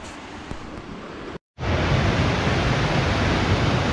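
Broad, steady roar of rushing rapids and falls on Porter Creek in Capital State Forest, Washington, heard up close and loud, with a brief dropout before the full wash of water resumes unbroken.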